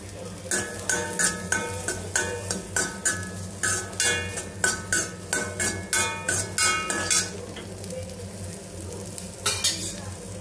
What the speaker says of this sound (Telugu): అదే కడాయిలో వాష్ చేసుకొని పొట్టు తీసుకున్న ముల్లంగి పీసెస్ వేసుకోవాలి